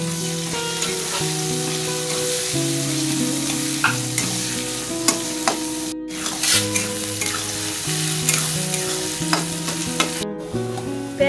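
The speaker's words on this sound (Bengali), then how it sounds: "এবার এই গরম তেলে পেঁয়াজ কাঁচা লঙ্কাগুলো দিয়ে দেব।" Onions and green chillies fry in hot oil after potatoes, sizzling steadily and close up for the whole stretch, with occasional stirring scrapes and spatula clinks over the crackle and no talk.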